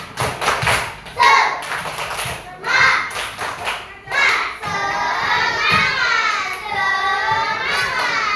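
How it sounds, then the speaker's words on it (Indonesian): A classroom of schoolchildren performs a rhythmic spirit clap, bursts of patterned claps and slaps alternating with the children's chanting voices, then a lively sustained stretch of clapping and shouting. "Ayo kita tepuk semangat dulu. Tepuk semangat."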